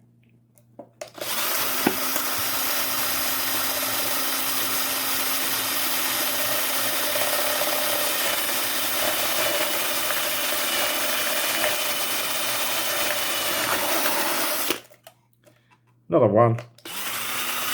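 A power drill fitted with a wood bit bores holes into a plastic plant pot, a steady loud whine running about thirteen seconds before stopping, followed by a short second burst; a voice speaks briefly.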